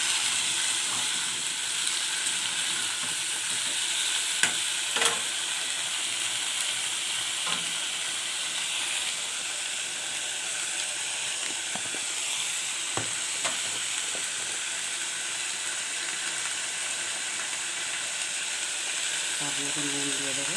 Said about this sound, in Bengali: কুমড়োটা আর আলুটা এখানে ভেজে নেবো আমি অল্প অল্প করে